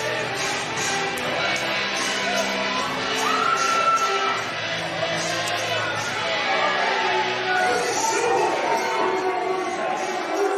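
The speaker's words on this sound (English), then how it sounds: "And listen to this crowd." A wrestling event crowd chatters and cheers in a continuous loud roar, with a commentator talking over it throughout.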